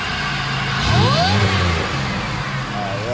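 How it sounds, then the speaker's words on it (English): Supercharged Monte Carlo SS engine revving up close: a rising blip of engine roar with a whining sweep near the middle, settling back to a steady idle. "And that's just having it revved up."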